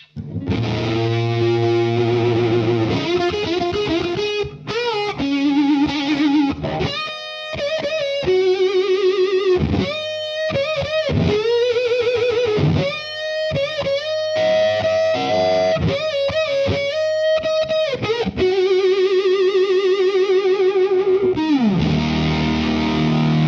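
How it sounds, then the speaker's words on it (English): Heavily fuzzed electric guitar through a fuzz pedal alone plays a loud, saturated riff of sustained chords and choppy stabs, with no voices. "So this is the sound of the Fuzz on its own."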